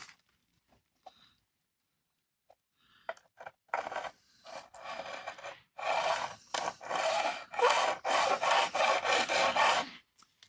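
A diamond-grit file rasps back and forth across guitar neck frets, starting with a few faint scattered scrapes, then building into steady, loud, rhythmic filing strokes up close.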